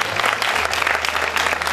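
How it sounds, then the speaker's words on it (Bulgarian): Dense applause from a festival audience at the closing ceremony, steady and loud throughout with no talk over it. "Аплодисменти!"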